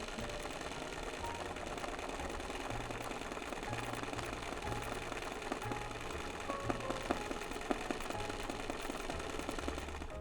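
A sewing machine runs a free-motion zigzag stitch, its needle pounding in a fast, steady mechanical chatter that surges and pauses in short bursts as the fabric is guided, close and fairly loud without voices.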